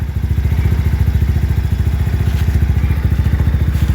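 A Mio i 125 motorcycle engine, slightly cold, idles after a one-click start, its rapid even thumping pulse steady and close throughout, with no voices.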